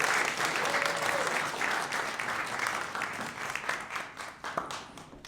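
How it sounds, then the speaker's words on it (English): A crowd applauds at a business innovation competition, dense sustained clapping from the audience that thins gradually toward the end, with faint voices underneath. "One more round of applause for all of them."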